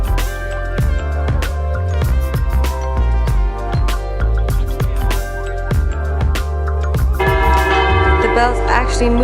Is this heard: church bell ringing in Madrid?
yes